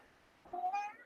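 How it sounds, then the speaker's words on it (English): A house cat gives a single short, rising meow, fairly close but quiet, after a moment of near silence. "That's my cat."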